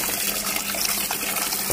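Water poured onto rice in a pot for rinsing makes a brief, steady close gush and splash with no talk.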